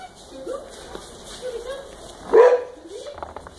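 A fire dog on duty barks once, loud and close, on a snowy day indoors, with a few quieter whimpers and yips around it and people talking in the background.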